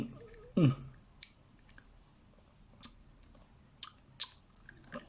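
Someone chewing a fried scorpion up close, with scattered crunchy clicks and bites spread across the moment and a short voiced murmur near the start.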